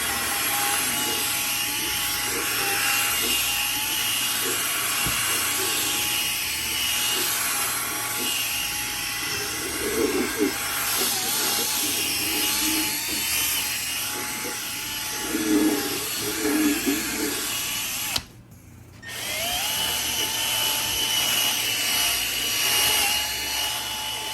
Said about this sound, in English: I would take my drill brush here, and I'll just show you